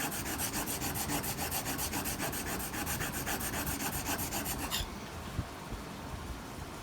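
A hand tool stroked back and forth across an abrasive sharpening stone, a continuous close rasping scrape with a fast regular rhythm that stops abruptly near the end, leaving quiet background.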